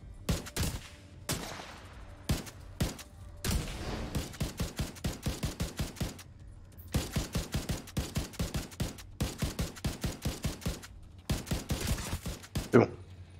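Semi-automatic rifle fire in The Division 2, a closed-beta endgame match: clusters of rapid, evenly spaced sharp shots in repeated bursts, loud and close, separated by short pauses.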